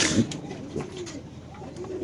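Pakistani pigeons coo softly nearby in low, rolling calls, a few repeated phrases over quiet background noise.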